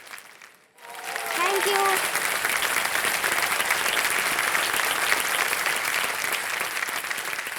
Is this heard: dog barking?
no